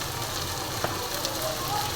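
Spices for a soybean curry, with salt and turmeric, fry in a pan with a soft, continuous sizzle and a few faint stirring clicks, fairly quiet throughout.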